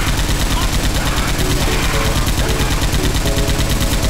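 Rapid frag rounds fire from a gun, likely an M60, in a shooter game as a dense, continuous burst of loud rhythmic blasts with faint music tones underneath.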